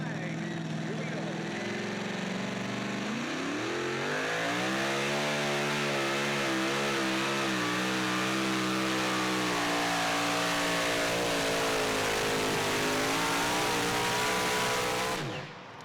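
A super modified two-wheel-drive pulling truck roars at full throttle through a pull, its engine note climbing and holding high and loud, with a commentator talking over it.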